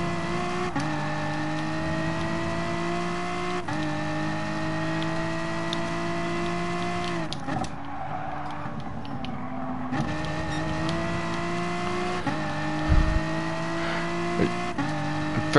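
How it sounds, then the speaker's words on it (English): Race car in Gran Turismo Sport engine droning steadily in gear, with sharp gear changes and a throttle lift under hard braking into an uphill corner before accelerating again; loud, continuous, no voices. "Braking hard going uphill into the second corner here, second gear."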